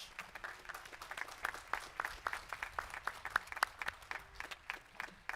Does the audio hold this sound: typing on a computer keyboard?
no